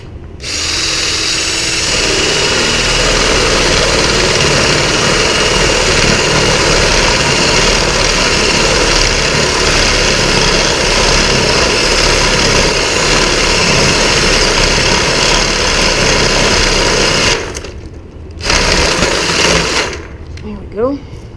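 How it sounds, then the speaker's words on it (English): A power drill with a 7-inch spade bit bores a hole into the ground outdoors, a loud, close, continuous whir running unbroken before briefly cutting out near the end. "I'm going to use a 7-inch spade bit and just drill a hole right where I want the stake to go."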